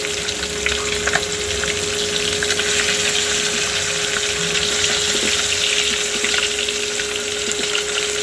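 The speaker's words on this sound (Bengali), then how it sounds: "আমি মাছগুলো হলুদ মরিচ আর লবণ মাখিয়ে মাছগুলো ভালোভাবে ভেজে নিচ্ছি" Sea fish coated in turmeric, chili and salt fry loudly in hot oil, with a continuous bright crackling sizzle and a steady hum beneath it. Occasional small pops come through, and no one speaks.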